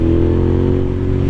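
A motorcycle engine rumbles through its exhaust, a loud, steady, close throaty drone held for the whole short stretch without any break.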